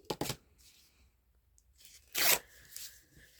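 Paper being trimmed for a junk journal envelope, a few short close rasping cuts and tears with quiet gaps between them.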